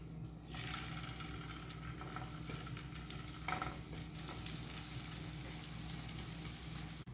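Chicken tikka pieces frying in a pan, a dense, even sizzle that holds steady throughout, with faint stirring noises underneath, close and moderately quiet, no one speaking.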